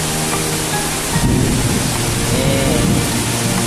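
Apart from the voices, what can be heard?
heavy rain with wind on Tidung Island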